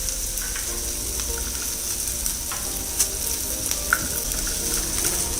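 Onion, ginger and garlic fry in a pan for a Kolhapuri mutton rassa, giving a steady loud sizzle throughout with occasional crisp pops near the pan, and no one speaking.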